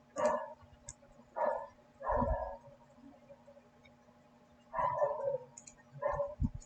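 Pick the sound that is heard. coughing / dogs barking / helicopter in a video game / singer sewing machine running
dogs barking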